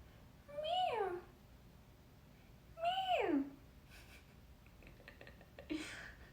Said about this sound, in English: Meow. That's what she sounds like, I swear.